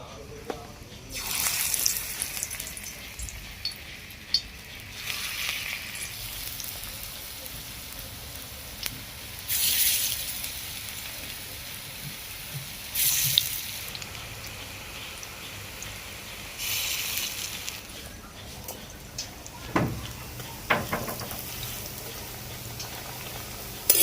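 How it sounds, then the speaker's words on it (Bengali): Small drumstick-flower fritters fry in white oil in an iron wok, giving a steady low sizzle that swells into louder bubbling bursts every few seconds, heard close and continuous. "লোহার কড়াতেই বড়াগুলো ভাজতেছি"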